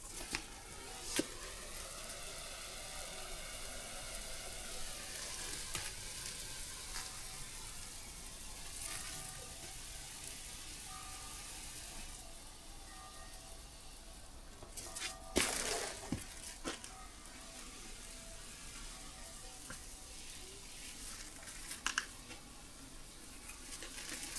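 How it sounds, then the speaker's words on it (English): Water washes over freshly pointed granite paving, a quiet continuous hiss and patter with a few louder splashes and gushes now and then, fairly close. "I've decided to wash this down now before the surface gets too dry"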